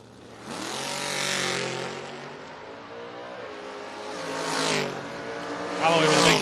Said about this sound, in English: Foskey, the 84 Mustang, 655, going to be getting chased by the 68 Camaro belonging to John Alloway